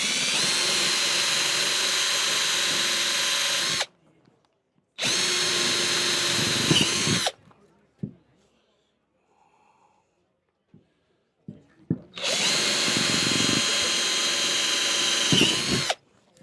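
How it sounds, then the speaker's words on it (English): A power drill whirs loudly in two long bursts separated by a pause, with a quiet stretch between them and another sustained burst at the end. "drill my first one"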